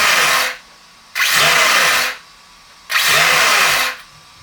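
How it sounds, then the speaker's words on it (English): Brushless motor of a Storm Breaker RC car on a Hobbywing or Castle controller, spinning up in three loud whirring bursts with the drag brake engaged, each burst cutting off sharply, with no talking. "you can hear the drag brake going on"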